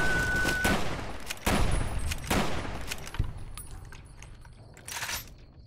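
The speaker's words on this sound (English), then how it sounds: "More lobotomites and their caravan shotguns." Shotgun blasts from lobotomites wielding caravan shotguns in Fallout: New Vegas, several loud broadband cracks spaced about a second apart, then a quieter stretch with a final burst near the end.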